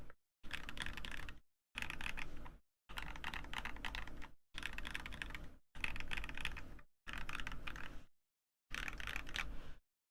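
An NK65 mechanical keyboard fitted with Lynx linear switches is typed on in seven separate bursts. Each burst is a quick, close run of muted, even clacks, with short silent gaps between bursts.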